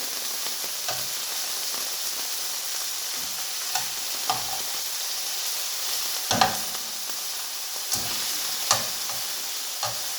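Chicken pieces frying in a pan for a chicken and leek pie: a steady, bright sizzle throughout, broken by occasional clicks and bumps as the pieces are turned, close and with no voices.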